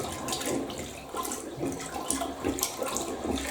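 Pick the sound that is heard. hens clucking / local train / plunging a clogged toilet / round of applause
plunging a clogged toilet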